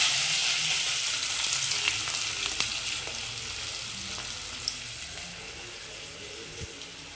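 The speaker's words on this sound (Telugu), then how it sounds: "బాగా ఫ్రై అయిపోవాలి." Chopped onions and green chillies fry in hot oil in a home kitchen, a continuous close sizzle and crackle with occasional stirring clinks, no voices.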